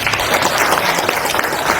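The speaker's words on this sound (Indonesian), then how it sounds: "tepuk tangan untuk beliau" A crowd claps loudly and densely at an Indonesian political party declaration event, honoring the party's national leadership, a continuous wash of applause with no talk.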